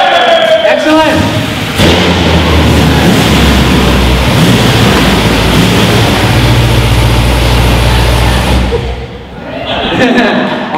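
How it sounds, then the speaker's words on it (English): Chevrolet Corvette engines fire up and run together at a prize-giving ceremony, a loud, steady low rumble and roar sustained for several seconds before easing off, with a crowd voice heard at the start and end. "Let's say the most famous words in racing to get these guys motivated. Gentlemen? Start your engine!"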